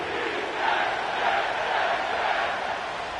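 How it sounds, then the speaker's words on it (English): A stadium crowd at MetLife Stadium in an EA Sports football video game cheers in a steady, full roar that holds evenly for the whole stretch. "The crowd is definitely ready."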